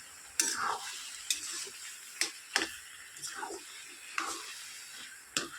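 Spices and chopped bottle gourd being stirred together in a pan, giving a handful of scattered scraping strokes over a faint, steady sizzle.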